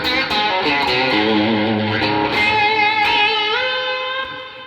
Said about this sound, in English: Those are your Strat tones.